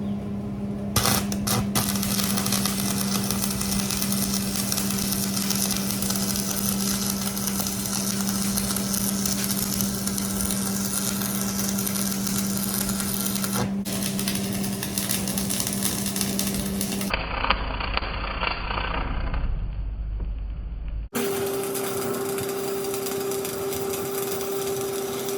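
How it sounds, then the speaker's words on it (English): A cheap buzz box stick welder welds a base onto a cart for a homemade lathe, giving off a loud, steady buzzing crackle for most of the clip before shifting to a quieter hum and then resuming. "So I'm gonna start welding this base onto the cart."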